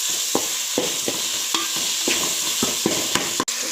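Ginger and garlic frying in a pan, with a steady loud sizzle and a regular rhythm of scraping stirs repeating about every quarter second to half second.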